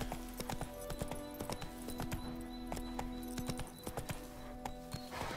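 Roach the horse gallops in The Witcher 3: Wild Hunt, rapid hoof clip-clops drumming steadily over a bed of game music, close and fairly loud, with a brief whinny-like tone near the end.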